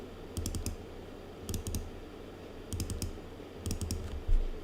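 Short clusters of quick key clicks come from a computer keyboard, four rapid bursts spaced a second or so apart over a steady low background hum.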